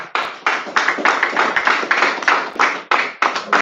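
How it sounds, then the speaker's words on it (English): A church congregation claps steadily for a few seconds, a close and loud round of applause made of dense, fast clapping with short uneven breaks. "Give everybody another round of applause."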